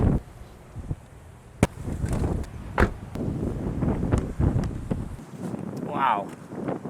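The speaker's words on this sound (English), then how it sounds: "it's a windy morning today" Strong wind at a beach on a morning buffets the microphone in a steady, gusting roar, with faint rumbling and rustling underneath.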